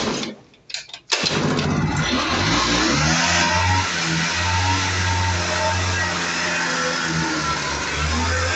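A petrol Kinetic Honda scooter engine cranks and catches after a brief sputter, then settles into a loud, steady close-up idle with a faint rev, no talk over it.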